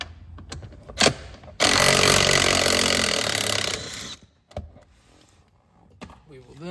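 Power tool backing a 7 mm bolt out of the dash trim on a Ford F250, a loud, close whir lasting about two seconds, framed by short clicks and handling knocks.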